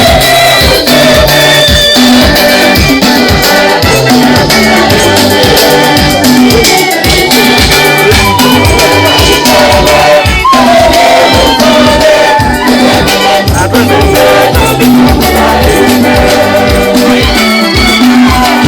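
A church congregation at a Mass cheers and ululates as a new priest enters, loud continuous crowd noise mixed with music throughout.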